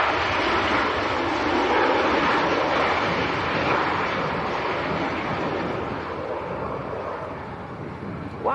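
KLM airliner from Amsterdam landing at Leeds Bradford Airport, a loud, steady broadband jet roar that continues throughout and eases slightly toward the end.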